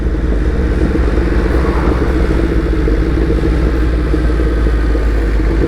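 Yamaha MT-10 motorcycle engine pulling under throttle, a steady loud rumble with constant mechanical drone and wind noise, close and continuous throughout with no talk.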